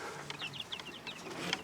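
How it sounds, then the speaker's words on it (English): Young chickens, a flock of leghorns, black sex links and Wyandottes, give a series of soft, repeated chirping calls close by in a coop, steady and rhythmic with no talk. "So we've got 4 leghorns, we've got 2 black sex lynx, and we've got 4 Wyandottes."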